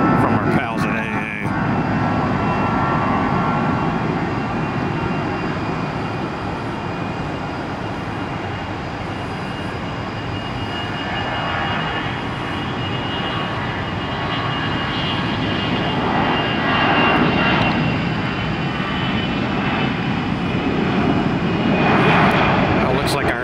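Airbus airliner taking off at an airport, its jet engines giving a loud, continuous roar that holds steady throughout with a broad rumble and no pause.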